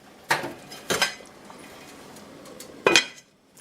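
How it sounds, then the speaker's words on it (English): Metal pot lid set onto a pot of stuffed green pepper casserole before it goes into the oven, giving three short clanks and clatters close by, with quiet kitchen room noise between them and no talk. "Now I'm going to put the lid on and put it in the oven."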